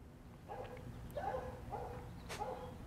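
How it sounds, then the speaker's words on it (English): Neighbouring dogs bark in the middle distance from a driveway, a few short separate barks over steady low outdoor background noise. "You might be able to hear our neighbor's dogs barking because they care more about it."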